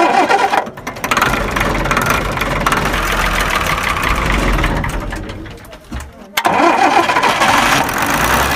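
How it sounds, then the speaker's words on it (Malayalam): A 2005 Ashok Leyland lorry's diesel engine cold-starting after sitting for about ten years, with the starter engaged directly: loud, rough cranking and clattering that catches into a heavy, uneven idle, broken by a couple of brief drops and restarts. "അന്നേരം വണ്ടി സ്റ്റാർട്ടായി."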